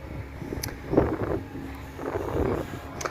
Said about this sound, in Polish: Tu jest wiatr straszny.